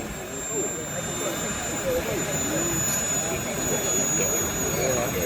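An F-16 fighter jet in Arkansas Air Guard tail colours roars with its afterburner, a steady, loud engine rumble sustained throughout, while a commentator talks over it.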